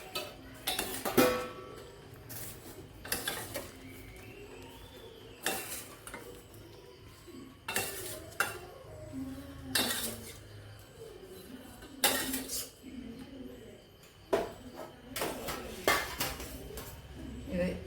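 A ladle scoops boiled cauliflower out of a pot, clinking against the metal in a series of sharp, close knocks and scrapes spaced a couple of seconds apart, with faint kitchen background between them.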